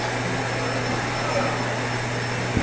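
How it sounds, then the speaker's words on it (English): A vacuum cleaner drones steadily in the background, a constant loud whir with an even hum that does not change throughout. "there's gonna be some vacuum noise in the background"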